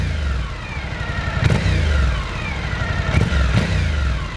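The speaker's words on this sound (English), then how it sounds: "V-Strom produces the most beautiful note, the most beautiful sound, thanks to its two-cylinder V-shaped engine that is sounding deep" Suzuki V-Strom 1050 with a two-cylinder V engine revving, a deep, throaty drone that rises and falls in pitch with sharp clicks and blips between revs, loud and close with no talk.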